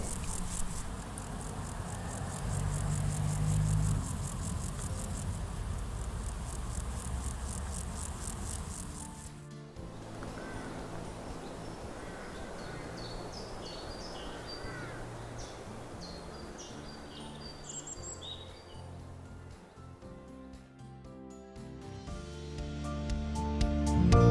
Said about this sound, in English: stop and listen to the grasshoppers and the birdsong